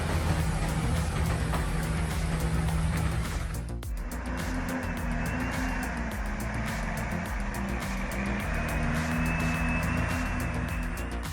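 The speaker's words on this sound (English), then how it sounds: "The roar of its V8 engine fills the air, unleashing over 400 horsepower." A Freightliner FLB truck with a V8 engine rumbles steadily and loudly on a rugged, dusty road, its low drone continuous and close with a brief shift in tone partway through.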